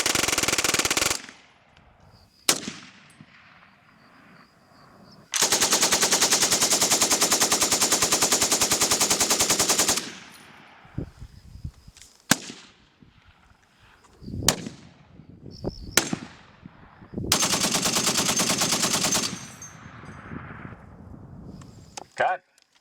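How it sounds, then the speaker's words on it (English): Several loud 12-gauge shotgun blasts, each a sharp boom followed by a long ringing decay, separated by quieter stretches with faint handling noises. "this is going to be a 12-gauge shotgun"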